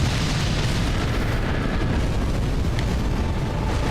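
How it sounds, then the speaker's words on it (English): A dense, steady rumble of explosions from exploding lava balls in Dark Souls 3, with deep booming bursts and roaring blasts piling over one another into continuous, loud, low-heavy noise with no clear gaps. "Those are not only lava balls, those are exploding lava balls."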